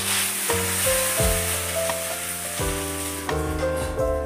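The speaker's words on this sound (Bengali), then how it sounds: "ঢ্যাঁড়সটা দিয়ে দেওয়ার পর দেখো আমি অনেকক্ষণ ধরে এটা ভালো করে ভেজে নেব" Okra fries unsalted in a pan with a steady, close sizzling hiss throughout, while stepped tones run over it.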